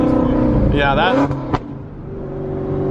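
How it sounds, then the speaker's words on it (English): A supercharged Ford Mustang Shelby GT350 engine revs loudly on the street with a rising whine while a person talks over it, the growl easing then building again. "this is honestly one of the best sounding cars I've ever heard."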